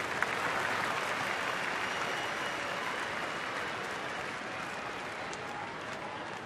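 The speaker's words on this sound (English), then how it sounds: "This is an anxious crowd here." A 45,000-strong baseball crowd at a Milwaukee Brewers home game against Pittsburgh fills the air with a steady, distant wash of murmuring and light clapping, fairly subdued and even throughout.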